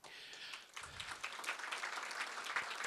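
An audience at a university lecture breaks into steady, dense applause, with many hands clapping together for about three seconds.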